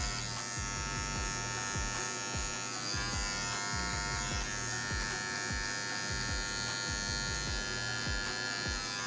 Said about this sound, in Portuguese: eu vou começar a trabalhar com máquina de acabamento para fazer um polimento aqui